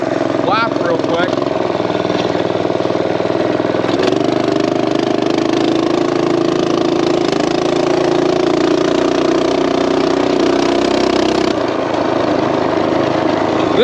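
Small engine-driven vehicle fitted with a torque converter runs steadily through a lap, a continuous close droning hum with a brief shift in tone around four seconds and again near the end, with a voice talking over it.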